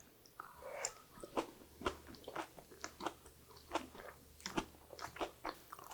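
Steamed green onion coated in bean flour being eaten up close, with repeated soft bites and crunchy chewing in an uneven rhythm of about a dozen distinct bursts, no talking.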